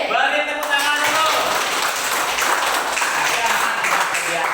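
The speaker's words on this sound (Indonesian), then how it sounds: "Beri tepuk tangan dulu." A classroom audience claps together, giving a dense, steady patter of applause that holds at an even level for several seconds.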